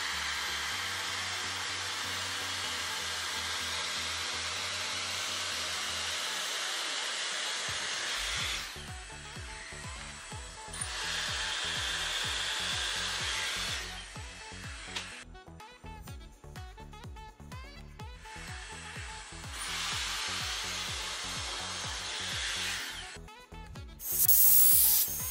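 A Dyson Airstrait hair straightener on its dry setting at 140 degrees blows a steady close whooshing rush of air, cutting in and out several times as it passes over hair, with rustling and handling noises between bursts.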